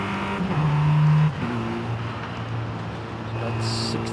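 A 2021 MG MG6 XPower accelerating in Forza Horizon 5 gives a tonal engine note that climbs and drops through a gear change, then keeps pulling at a steady, moderate level.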